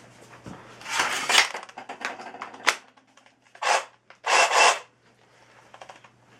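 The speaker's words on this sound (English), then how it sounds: "I'll just use the sawzall I have." A Sawzall reciprocating saw cuts into the track bar of a 1998 Dodge in bursts of harsh metallic rasping, starting and stopping several times, close and fairly loud.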